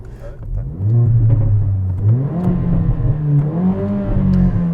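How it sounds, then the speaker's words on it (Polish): Mercedes A45 AMG four-cylinder engine revved hard toward the red line, a close, loud rising howl that climbs in pitch, dips briefly and climbs again, with no talking. "można dokręcić do czerwonego pola i posłuchać jak to brzmi"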